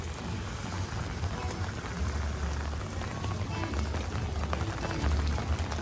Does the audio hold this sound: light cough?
no